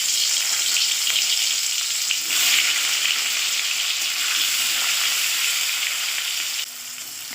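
Pieces of bitter gourd (kakrol) sizzle in hot white oil in a kadai, a steady, bright crackling fry that runs on evenly with no voices.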